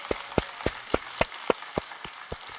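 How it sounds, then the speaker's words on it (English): Clapping in an even, steady beat, about four claps a second, close and crisp, fading slightly toward the end. "you can applaud."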